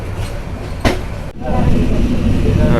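The Kurigram Express train rumbles steadily along the tracks at night between Dhaka and Parbatipur, loud and close, with a brief sharp clatter partway through.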